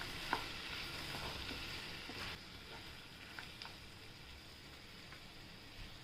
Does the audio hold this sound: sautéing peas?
yes